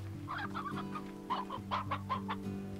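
Hens cluck in short repeated bursts over a low electronic hum in the video game Slime Rancher, their calls bunched into two clusters with a pause between.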